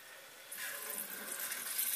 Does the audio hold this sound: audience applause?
no